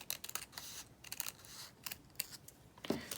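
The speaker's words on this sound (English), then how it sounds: "I'm going to go ahead and just cut a diagonal line, corner to corner" Scissors cut across crepe paper in a diagonal line from corner to corner, giving a series of crisp, quiet snips close by, with no talk.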